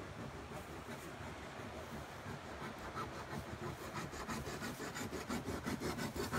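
A hand file is worked by hand on metal where a stud was welded on, making a steady, faint rasping with regular back-and-forth strokes that grow slightly stronger toward the end.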